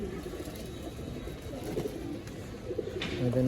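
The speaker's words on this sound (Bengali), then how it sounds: "আজকে সব কবুতর ছাড়া হয়েছে গোসল করানো।" Soft pigeon cooing amid a steady outdoor background hum, with low murmuring calls repeating throughout.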